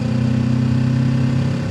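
Kawasaki Ninja 650 parallel-twin motorcycle engine running steadily at a low, even idle or light throttle, a loud, close, continuous droning hum with no talk over it.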